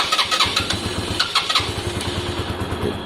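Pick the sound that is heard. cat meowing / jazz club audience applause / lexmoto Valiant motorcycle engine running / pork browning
lexmoto Valiant motorcycle engine running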